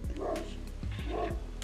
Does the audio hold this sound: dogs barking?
yes